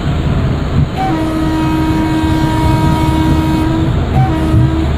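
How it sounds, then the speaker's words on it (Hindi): An Indian express train horn in the Open Rails train simulator game sounds one long, sustained tonal blast over a constant loud rolling rumble, with a brief higher tone near the end. "चलिए अराइवल का हॉर्न बजा देते हैं"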